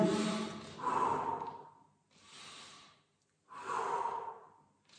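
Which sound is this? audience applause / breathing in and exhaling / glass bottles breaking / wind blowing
breathing in and exhaling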